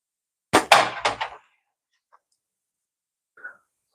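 A homemade slingshot with a stitched leather pouch is fired outdoors. A quick cluster of sharp, close snaps is followed by a couple of faint ticks, then quiet.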